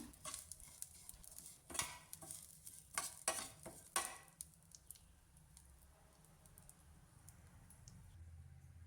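Dry fruits roast in a pan until golden brown, with a cluster of loud stirring scrapes and clicks early on before settling into a faint, steady low hiss.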